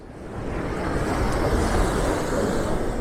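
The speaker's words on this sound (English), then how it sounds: "Some biggish waves coming in as well." Big ocean waves breaking during a stormy spell, a loud sustained roar of surf that swells after a quieter start and holds steady, with some wind rumble.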